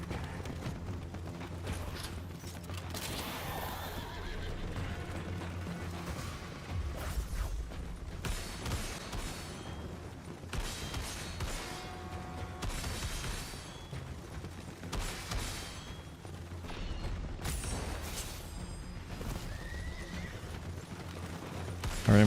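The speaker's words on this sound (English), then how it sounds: "Alright, we got a little horse chase, parrying the guns." Horses neigh and gallop during a horse chase in a video game, with game music and clattering mechanisms layered throughout a dense, loud mix.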